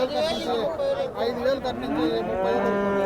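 A Holstein Friesian or Jersey crossbreed calf offered for sale gives a long, close, loud moo that fills the whole moment, with faint voices in the background.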